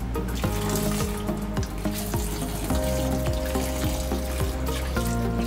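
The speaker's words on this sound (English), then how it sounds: "So you add little water into it." Water poured over peeled beans in a sieve while making Nigerian akara, a continuous splashing and trickling wash with bowl clatter, loud and close with no voices.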